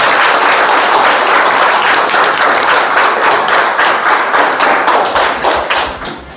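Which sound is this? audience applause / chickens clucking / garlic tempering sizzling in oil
audience applause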